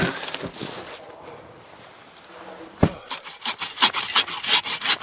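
Firewood being sawn by hand at a winter camp in deep cold, short rasping strokes of a saw on wood, close and fairly quiet, picking up into a quicker rhythm toward the end.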